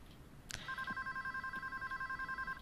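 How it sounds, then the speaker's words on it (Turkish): A telephone rings steadily inside a bank in the video game Payday 2, a repeating electronic trill that starts after a brief click and keeps pulsing in an even rhythm, moderately loud against faint room background. "Telefon çalıyor."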